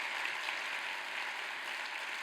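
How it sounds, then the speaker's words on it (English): A TEDx audience gives John and Sue another round of applause, a soft, even wash of many hands clapping that stays steady throughout and sounds fairly distant. "can we give John and Sue one more round of applause?"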